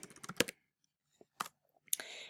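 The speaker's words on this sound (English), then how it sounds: "first start typing your name" Keystrokes on a computer keyboard come as a quick cluster of clicks, then a pause and a few scattered taps, close and crisp in a quiet room while typing into Microsoft Word.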